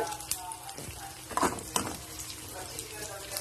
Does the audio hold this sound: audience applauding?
no